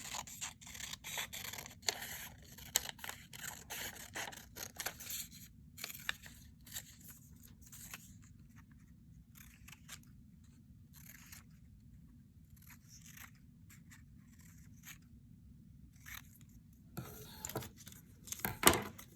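Scissors cut around the outside of a long, narrow strip of paper, making quiet scattered snips, scrapes and paper rustles, busier at the start and again near the end, with no talk.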